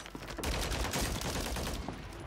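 Gunfire crackles in a squad-based online shooter game: dense, rapid volleys of shots in close succession that stay loud and continuous for a couple of seconds, with no talking.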